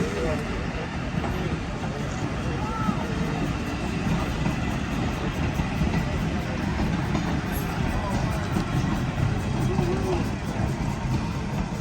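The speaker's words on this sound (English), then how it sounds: "that was a set of Illinois Terminal interurban cars going by" Low rumbling Illinois Terminal interurban electric railcars rolling past the East Union Depot at the Illinois Railway Museum, a continuous heavy rumble with squealing wheels and background chatter, fairly loud throughout.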